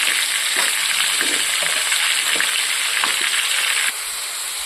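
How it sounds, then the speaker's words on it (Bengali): Vegetables tipped into hot spiced oil, for a prawn and amaranth greens curry, erupt in a loud, steady hiss and crackle of frying close up, easing slightly toward the end with no talk. "এবার আমি এর মধ্যে সবজিগুলো তুলে দেবো। সবজিগুলোকে আমি খুব সুন্দর করে ভাজবো।"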